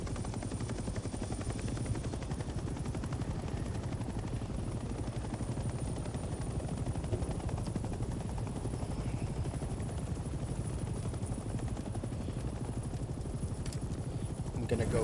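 A helicopter in the video game Hell Let Loose: Vietnam thrums with a steady, continuous rotor chop throughout, while players talk over it.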